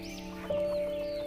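A small pet chicken clucks softly up close, a few short low clucks over a steady background hum and a sustained tonal whine.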